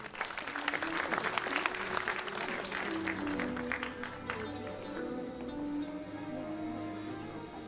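An audience at a school awards gala in Zambrów claps for several seconds, a moderate, fairly distant patter of many hands over a faint background hum.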